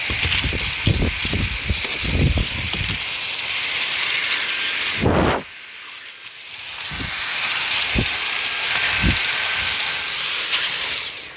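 A Dyson V7 Trigger handheld vacuum whines continuously with a high steady tone while cleaning the fabric car seats, loud and close, its pitch dipping briefly midway, with soft bumps of the nozzle against the upholstery.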